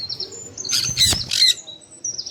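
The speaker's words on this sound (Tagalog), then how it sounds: "pakainin mo yung birds" Birds at Manila Ocean Park give a few bright, close chirps and short squawks, with a brief flurry of louder calls in the middle over a quiet background.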